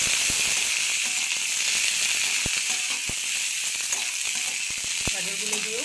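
Finely chopped carrots go into a pan of frying cauliflower, making a strong, close, hissing sizzle over which a utensil clicks and scrapes against the pan every so often.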